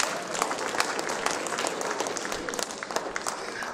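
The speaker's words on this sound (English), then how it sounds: "Give yourself some applause." Audience applause at a storytelling event, a dense wash of clapping from many hands that runs steadily the whole time and thins slightly toward the end.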